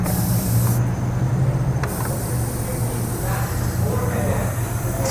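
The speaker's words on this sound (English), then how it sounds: "Start spraying connections." Steady close hiss of a spray bottle misting soapy water onto the boost connections of a 2nd gen Cummins 12 valve diesel engine, continuous with one brief pause.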